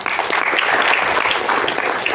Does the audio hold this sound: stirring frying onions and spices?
no